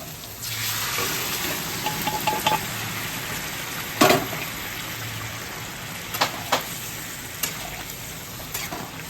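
Steamed soybeans and potato tip out of a pressure cooker into a hot pan, giving a wet sizzling rush with scattered metallic clinks and clatters of cookware, close and without speech.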